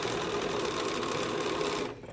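Sewing machine running a short back stitch while piecing a granny-square quilt, a fast continuous whirring chatter of the needle for about two seconds, close and fairly quiet, then stopping abruptly.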